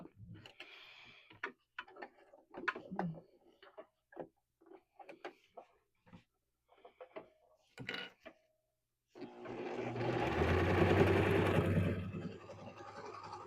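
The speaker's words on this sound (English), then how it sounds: "now we're going to sew down all four sides" Sewing machine stitching a quarter-inch seam around all four sides of a Dollar Tree dish drying mat wristlet with zipper, running steadily and fairly loud for the last few seconds, after a stretch of quiet ticks and handling noises.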